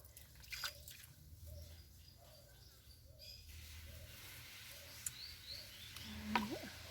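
Water dripping and trickling while potted garden plants with basil and tomato seedlings are watered, soft and fairly close, with faint birdsong in the background.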